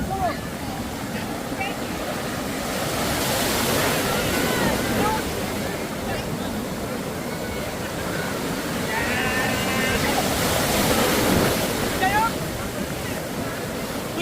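Sea waves roll in at Puri beach with a broad continuous wash of surf and wind, loud and steady, as a voice talks over the roar.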